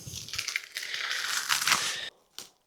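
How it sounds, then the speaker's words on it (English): A fragile scrap wood cut-out is unwrapped with sustained crinkling and crushing of wrapping material, loud and close, ending in a brief pause and one last short rustle. "let's unwrap this and see just what we've got."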